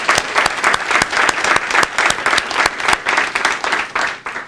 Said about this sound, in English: can we please give your great principal another round of